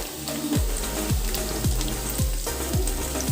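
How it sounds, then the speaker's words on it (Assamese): Potatoes frying in a pan give a steady close sizzle and bubbling crackle, with a repeated clink or tap every half second or so, no voices. "এয়া আলু ফ্ৰাই কৰি আছোঁ।"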